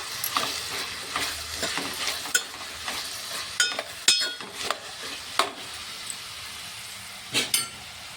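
Bombili (Bombay duck) fish dropped into a pan of softened onions for a spicy fish stew, with a steady sizzle broken by several sharp clinks and scrapes of a utensil against the pan.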